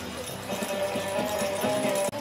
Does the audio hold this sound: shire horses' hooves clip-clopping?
yes